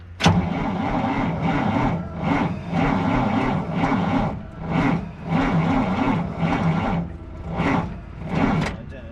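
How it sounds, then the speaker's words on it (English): An abandoned Kenworth W900A truck engine cranks sluggishly on four batteries wired to 24 volts, its starter grinding in slow, even pulses with a rising whir near the start, loud and close without catching. "Let's see if it cranks. It does, but not very fast."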